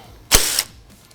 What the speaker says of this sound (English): I'll swap over to my 10mm socket and remove that